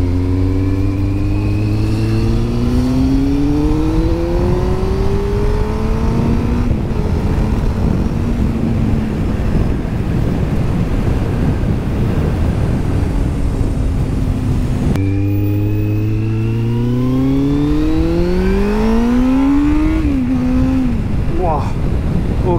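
A Kawasaki Z750R motorcycle accelerating hard, the engine note climbing loudly through rising revs and gear changes, heard close and continuous, then surging again after a shift.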